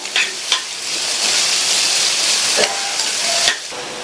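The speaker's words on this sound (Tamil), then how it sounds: "உப்பு சேர்த்துட்டு வதக்கி கொடுங்க. இந்த வெங்காயம் நல்லா வதங்கி வரட்டும்." Chopped onion with salt sautéing in a pan for aval upma: a loud, continuous close sizzle broken by a few sharp clinks and scrapes of stirring, with no voices.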